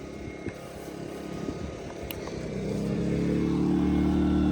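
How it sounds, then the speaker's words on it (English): A 2200 watt portable generator running on alcohol, its engine hum steady at first and then rising as the throttle opens up, ending in a louder, fuller drone. "Now remember, it is a 2200 watt generator."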